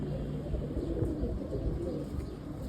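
Pigeons coo softly and steadily in a low murmur at a pigeon seller's in Kolkata, with the close rumbling calls blending into faint background noise.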